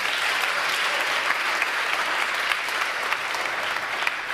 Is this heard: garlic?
no